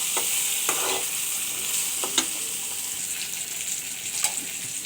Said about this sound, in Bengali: করলাটা ভাজা হয়ে গেছে